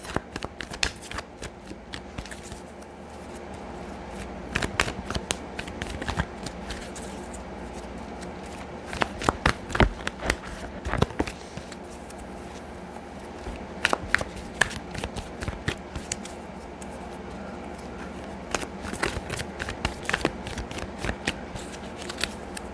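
Archetype oracle cards by Carolyn Meese being shuffled by hand in repeated bursts of crisp riffling and sliding, with short quiet pauses between rounds, close and clear.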